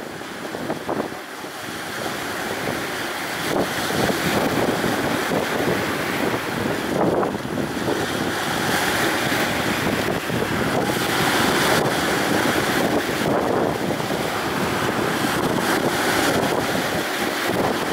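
Rough seas slap and wash against a barge of a few dozen tons out on open water, with heavy wind buffeting throughout and the surges rising and falling in a continuous, fairly loud roar.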